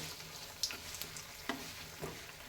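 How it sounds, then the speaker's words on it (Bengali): Food frying in a pan makes a continuous sizzle, broken by a few sharp clinks and scrapes from stirring, close by with no talking. "তো চলো এইগুলো ভেজে নিই"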